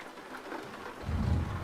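Rain falls steadily in American Truck Simulator, a soft hissing patter at low volume with a deeper rumble swelling near the end, no talk.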